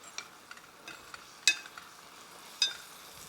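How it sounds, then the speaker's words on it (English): Chopped pecans drop into a pan of Bananas Foster sauce, giving a soft low sizzle punctuated by a few sharp clinks and stirring taps, two of them louder. "let's put in all of our chopped pecans"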